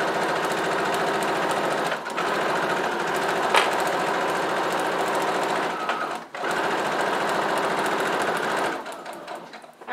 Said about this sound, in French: je plante l'aiguille, je lève le pied, je tourne et je repars sur ma couture